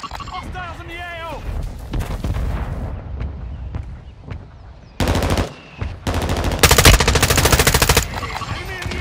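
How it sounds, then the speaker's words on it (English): Mortar strike and gunfire in Call of Duty MWII multiplayer: scattered sounds at first, then loud bursts of rapid automatic fire and heavy impacts, with a voice calling out over the action. "Mortar strike inbound now."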